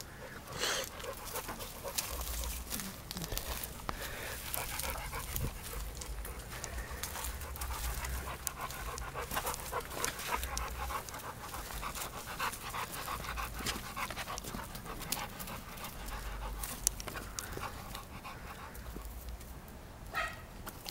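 Several dogs pant rapidly and continuously in kennels, a dense breathy rhythm close by, with occasional whimpers and short barks mixed in and no talking.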